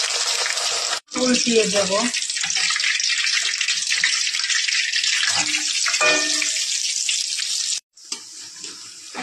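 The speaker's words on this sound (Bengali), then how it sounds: "এই যে বেসনের গোলার মধ্যে দিয়ে দিলাম। এবার তেলের পরে ছেড়ে দেব" Lettuce leaf pakora coated in gram flour batter frying in hot oil, a steady broadband hiss and sizzle running almost throughout, briefly cutting out twice, with someone speaking over it.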